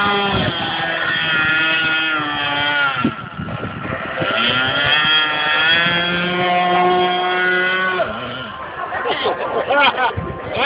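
A model boat's small motor runs steadily at an open house for model builders, a continuous buzzing drone that dips briefly and picks back up, with crowd chatter and voices around it.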